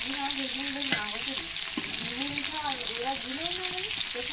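Chicken pieces fry in a pan with a constant, close sizzle as they are turned over, with occasional scraping stirs and a person talking over the cooking.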